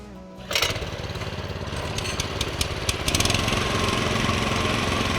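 Two mini tiller engines, an FTL620 double gardan and an FTL900HG, start together in a dry field, then run loudly with a close, busy chugging rumble and occasional sharp clacks over the top.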